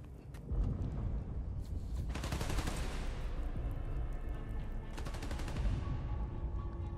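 Sustained bursts of automatic gunfire in Marvel's Spider-Man: Miles Morales, loud and continuous, with two denser rapid-fire stretches over a constant rumbling game backdrop.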